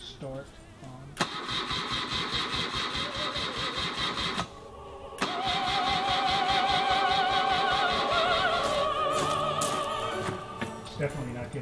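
A freeform custom motorcycle engine cranks repeatedly with a fast rhythmic chugging starter, briefly stops, then cranks again for several seconds without catching, loud and close.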